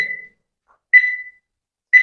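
A quiz countdown timer sound effect gives clean electronic beeps, one about every second, each a bright tone that fades quickly, heard alone with silence between.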